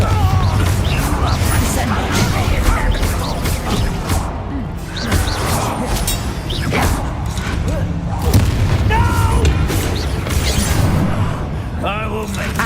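Confringo blasting spells bursting in a Hogwarts Legacy fight, loud booming explosions and crashes piling up one after another over busy combat noise, with a voice calling out spells at times.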